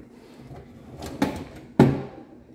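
A hidden drawer in a condo kitchen slides and bumps shut, with two short knocks close by against a quiet room.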